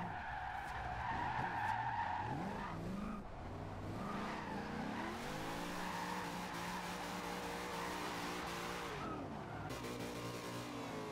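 A powerful car drifting in the racing game Forza Horizon 2, held in fifth gear: a loud, continuous engine roar that rises and falls, under sustained tire squeal throughout.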